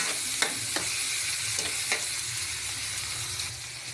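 Fresh shrimp paste (alamang) sautéing in a pan for a Bicol-style dish, with a steady close sizzle, occasional clicks of a utensil stirring, no voices.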